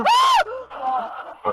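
People inside a car screaming, picked up by a dashcam: a sharp, high, sustained shriek bursts out loudly, followed by lower startled vocal cries and a brief final yelp, all close to the microphone.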